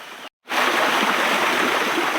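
A small waterfall pouring steadily, a close, continuous broadband rush of water that starts after a brief silent gap at the beginning.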